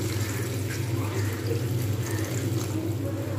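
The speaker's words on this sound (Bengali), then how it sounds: "এইবার আমি এর মধ্যে পরিমাণ মতো দিয়ে দেবো জল" Water pouring into a pan of drumstick and potato posto, a continuous close splashing flow that lasts the whole clip without talk.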